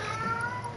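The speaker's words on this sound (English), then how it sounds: "you hear my cat meowing?" A house cat meows close by, a short tonal cry over a steady background hum, with no talking.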